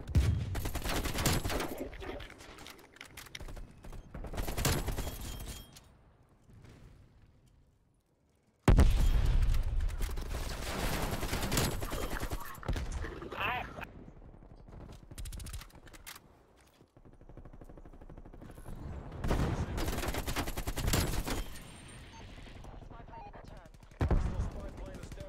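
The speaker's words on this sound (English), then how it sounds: "What are you shooting at, teammate?" Automatic rifle fire and bursts of gunshots from the video game Call of Duty Cold War come in clustered volleys with quieter gaps between them, fairly loud throughout.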